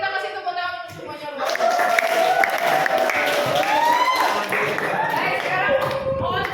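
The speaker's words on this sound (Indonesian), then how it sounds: "sekali lagi kita kasih tepuk tangan untuk semuanya" Applause for everyone in a classroom coaching session, a crowd clapping steadily and fairly close, with cheering mixed in and voices over it.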